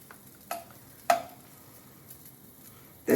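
Bite-size potatoes tumble into a hot pan for a breakfast scramble, giving a few sharp clatters and stirring knocks over a faint, steady sizzle.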